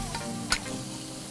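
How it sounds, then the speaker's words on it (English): Fried rice with chives being stirred in a pan: a steady oily sizzle with a brief scrape of the utensil midway, close by and alone without talking. "So keep stirring."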